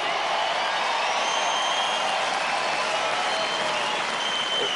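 Sustained crowd applause fills center court at the US Open tennis Grand Slam, a dense, steady roar of clapping and cheering from a large stadium audience that holds at an even level throughout.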